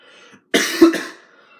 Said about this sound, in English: Sorry I keep coughing, guys.